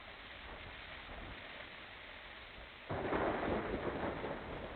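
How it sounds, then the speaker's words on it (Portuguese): Rain recording with thunder: a steady hiss of falling rain that suddenly swells louder midway, as if a heavier downpour or rumble rolls in, continuous and fairly close with no voices. "A chuva."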